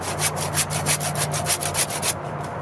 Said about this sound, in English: we're going to cut this into anywhere from 4 to 6 inch sections